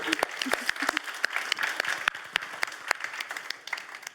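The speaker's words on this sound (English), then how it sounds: "let's give these two a warm applause for being here." A modest audience at an artist and curator talk gives warm applause, with individual claps clearly distinct in a moderate, steady patter over a few seconds.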